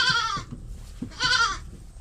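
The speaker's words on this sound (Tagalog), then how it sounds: "Ilan ba yung kambing nila?" Several goats bleat loudly and close by in two drawn-out, wavering calls separated by a short pause, with low rustling and movement underneath.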